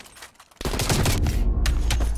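Sustained rapid video game gunfire, a loud, dense burst of automatic shots that starts abruptly and rattles on without pause, with a brief dip midway.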